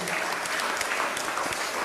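Audience applause during a talk on meditation, a dense steady wash of many hands clapping, sustained and even throughout, with no voices over it.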